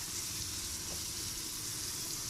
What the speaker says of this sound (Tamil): வெங்காயம் வந்து நல்லா பொன்னிறமாக வதங்கட்டும்